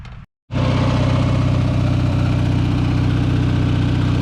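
A Briggs & Stratton 19.5 engine on an LT1000 lawn tractor, just started after carburetor repair, idles steadily without choke, loud and close with an even low throbbing rhythm after a brief silent gap.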